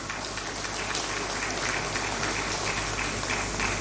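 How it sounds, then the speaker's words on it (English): An audience at an official campaign launch for African First Ladies for Development applauds steadily, a continuous even wash of clapping heard from a distance and sustained throughout with no talk. "That applause is not encouraging enough."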